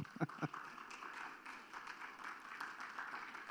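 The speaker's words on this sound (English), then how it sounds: "Sure, you can clap." Audience clapping at a charity gala, a continuous broadband patter of many hands that holds at a moderate level throughout, opening with a few sharper individual claps near the start.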